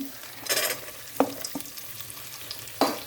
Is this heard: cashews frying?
yes